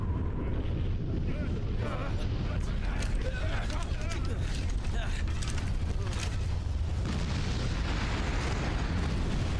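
A volcano erupts in the video game Disaster: Day of Crisis: a dense, continuous, loud rumbling roar with crackling bursts and mechanical creaks, while voices talk over it.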